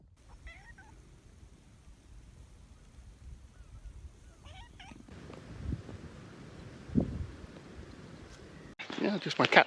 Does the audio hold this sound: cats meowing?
yes